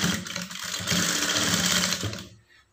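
A sewing machine runs steadily, top-stitching the lining of a blouse, a close continuous mechanical whir that winds down and stops near the end.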